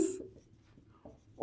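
Pen scratching on paper while working a math problem on sets, a soft, close scribble between stretches of a man's spoken explanation.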